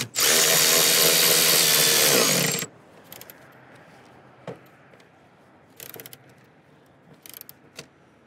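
A power drill whirs loudly for a couple of seconds driving a screw into a Suzuki Samurai, followed by quieter clicks and handling noises.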